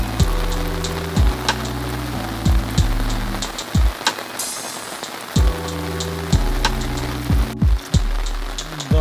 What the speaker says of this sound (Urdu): کافی تیز بارش شروع ہو چکی ہے۔